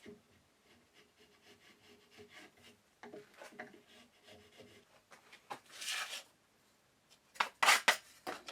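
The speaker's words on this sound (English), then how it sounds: "I use a chisel to tidy up the saw marks" A chisel pares saw marks from wood with a run of soft, close scraping strokes, growing into a few sharper, brighter shaves near the end, fairly quiet throughout.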